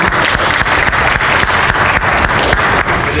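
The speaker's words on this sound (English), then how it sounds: "Let's give a clap for Billy and Clint" A church congregation claps for the DJs in loud, dense, steady applause that stays even throughout, close and full, with no talk over it.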